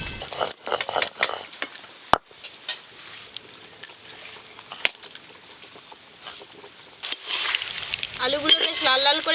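Vegetables and prawn fritters fry in hot oil, a soft crackling sizzle with scattered pops and a louder bubbling burst near the end, with some kitchen clatter.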